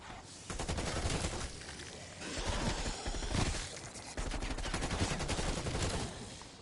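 Groza fire in a shooter video game, dense rapid automatic shots in close, loud bursts that run almost continuously with short gaps between volleys.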